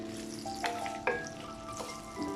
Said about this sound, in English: I'm going to be adding the onion, chili, curry leaf and thyme